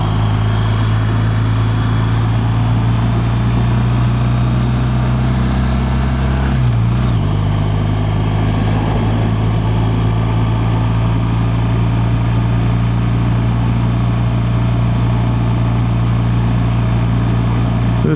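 A German motorcycle rides over Blewett Pass on Highway 97, a loud, steady engine drone with wind rush throughout and a brief dip in pitch partway through, as during a gear change, with no talk.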